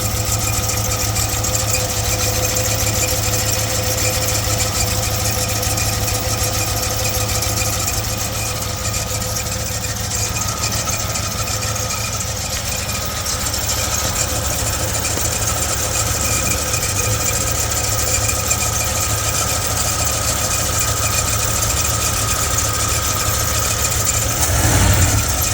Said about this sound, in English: You can hear the engine a little better now. Got a little squeaking in there with the belt.